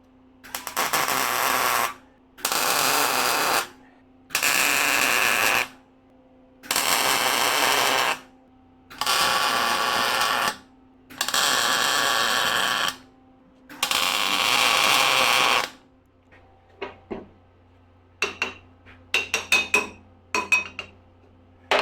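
Metal piece being clamped down in a fabrication shop for a firewood bundler: seven loud, evenly spaced rasping bursts of a few seconds each over a steady hum, then a scatter of sharp metallic clinks and taps.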